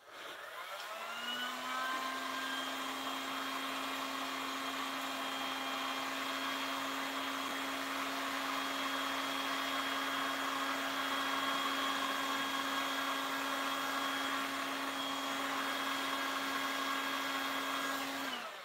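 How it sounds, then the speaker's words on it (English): A heat gun runs steadily for the whole stretch, heating wood treated with weathered wood accelerator, a continuous close, loud whining blower hum with no talk over it. "I'm going to accelerate it with the heat gun."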